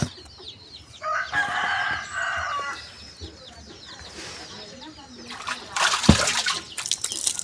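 Chickens cluck and a rooster crows outdoors, with bursts of bird calls and some background noise; a few faint voices may be present.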